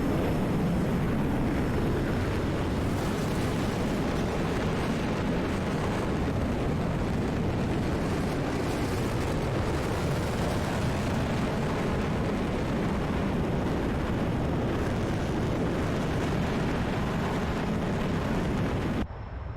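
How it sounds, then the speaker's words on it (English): Sustained F-14B jet afterburner roar in the DCS flight simulator, a loud, steady broadband rumble filling the whole stretch with no break, heard alone without talk. "Alright, let's see some of that afterburner."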